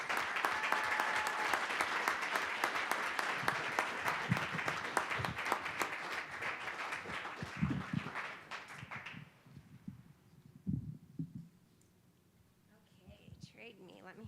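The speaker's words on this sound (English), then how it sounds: "Another round of applause." Applause at a school district board meeting fills the room with dense, steady clapping that fades out after about nine seconds, leaving quieter shuffling and a few voices.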